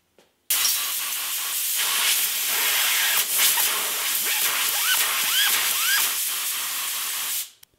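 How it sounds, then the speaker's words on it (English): Basic Taiwanese spray gun laying down Valspar TB300 enamel topcoat on a restored drill press, a continuous loud airy hiss that starts abruptly, holds steady for several seconds with slight flutters, then cuts off. "The spray gun I'm using is a basic Taiwanese gun"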